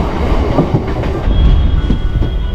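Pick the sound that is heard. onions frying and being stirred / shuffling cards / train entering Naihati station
train entering Naihati station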